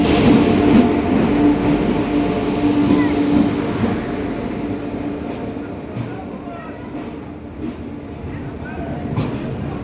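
A passenger train on the Jun Express at a station rumbles loud and close, with a steady roar of wagons and faint wheel clatter, voices murmuring underneath.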